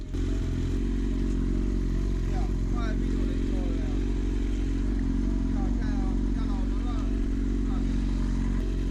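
A motorcycle idles steadily during an MOT inspection, a constant low engine drone with faint clatter throughout.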